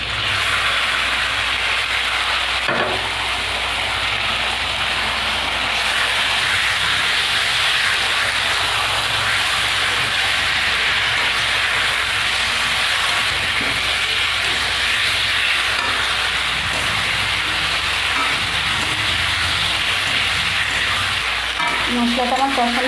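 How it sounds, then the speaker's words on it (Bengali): Spice masala with already-fried potatoes sizzles steadily in a pan, a dense continuous hiss with occasional stirring scrapes, loud and close throughout. "এবার মশলাটা দিয়ে দেবো।"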